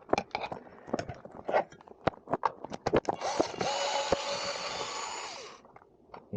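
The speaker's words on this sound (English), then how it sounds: "Pretty cheap for this little electric screwdriver." Small cheap electric screwdriver backing corroded screws out of a vintage 1980s Kyosho Big Boss RC car: short clicks and handling taps, then a sustained close motor whir for about two seconds before it stops.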